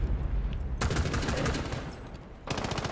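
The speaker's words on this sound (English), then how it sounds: "Shots fired." In ranked Rainbow Six Siege, rapid automatic gunshots rattle out in two close, loud bursts separated by a short lull.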